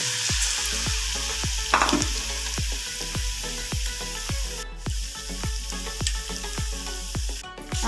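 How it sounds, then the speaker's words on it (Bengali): Egg-coated paneer pieces sizzle steadily in a hot pan for paneer pasanda, with a constant frying hiss and a regular series of close, sharp utensil taps and scrapes throughout; no one speaks. "আমি এটা 1 পিঠ ভাজা হয়ে গেছে, উল্টে দিয়েছি 1 পিঠ"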